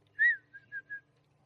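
An oriole in backyard trees gives a brief set of faint whistled notes: one clearer call followed by three softer short ones, heard alone at a quiet distance.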